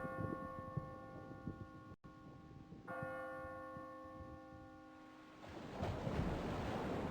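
Bells ring with sustained harmonic tones beside washing ocean surf in a video game puzzle, a steady mid-level layered mix that briefly cuts out and returns, with the surf swelling louder near the end; no one speaks.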